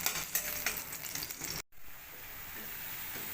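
Crushed garlic frying in hot oil in a wok, a steady close sizzle and crackle with a brief gap partway through, then a softer continuous hiss.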